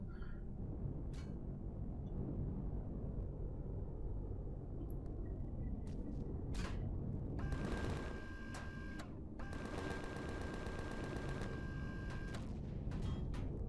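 Artillery turrets fire in Empyrion Galactic Survival, a sci-fi survival game, at a tank: a dense run of rapid, rattling mechanical bursts with a steady whine, starting partway through and stopping briefly before resuming over a constant low rumble.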